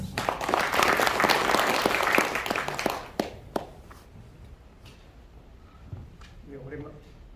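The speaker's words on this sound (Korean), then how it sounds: "큰 박수 부탁드립니다" A crowd at a formal independence anniversary ceremony claps loudly for about three seconds, then the applause fades to scattered claps and low room murmur with a brief voice near the end.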